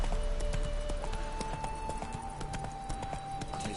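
Hooves of Roach, a horse in The Witcher 3, clip-clop at a steady walking rhythm, fairly loud and close, over a low background of game music and ambience.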